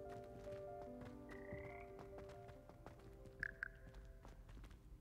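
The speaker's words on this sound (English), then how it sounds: "Keep hearing a frog." Frog croaking inside a Harry Potter wizard video game, a few short croaks heard among game music and ambient sounds, with a brief higher chirp near the end.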